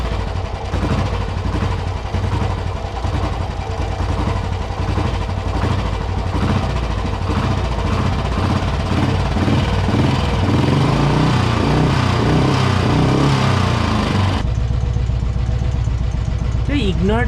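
A Royal Enfield motorcycle engine fires up and settles into a loud, steady idle with a thumping rhythm, close by, before cutting to a quieter tail end.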